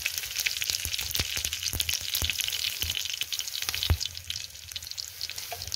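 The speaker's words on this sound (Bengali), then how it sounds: "পাঁচফোড়ন দিচ্ছি" Panch phoron spice mix spatters in hot oil for a Bengali red spinach fry, a dense close sizzle with frequent sharp crackles and pops throughout, no voices.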